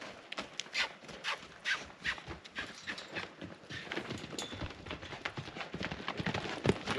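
Horse hooves clip-clopping in a steady loping rhythm as a green horse is ridden, close and fairly loud, with regular percussive beats and some background noise.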